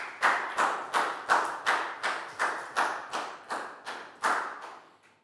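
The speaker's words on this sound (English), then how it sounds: "High five and a big round of applause for Pak Boon, guys." A small class of students claps in a steady, evenly spaced rhythm of about a dozen unison claps, close and moderately loud, each clap decaying quickly before the next.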